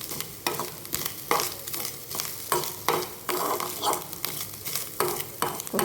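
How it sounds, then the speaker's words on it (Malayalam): Grated coconut being sautéed until brown in a pan for jackfruit erissery, with a steady sizzle and repeated scraping stirs at a regular rhythm, close and fairly loud. "ശേഷം അത് ബ്രൗൺ കളറാകുന്നവരെ നമ്മളിങ്ങനെ വഴറ്റിയെടുക്കുക."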